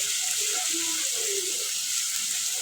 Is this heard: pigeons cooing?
no